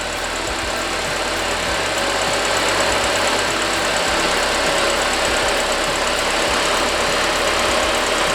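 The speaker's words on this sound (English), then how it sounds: "it's ticking a little bit, and that's because the car hasn't been running for several weeks" A Saab 9-5 Aero engine idles steadily after sitting unused for several weeks, a continuous close mechanical hum with a light ticking running through it, no voices over it.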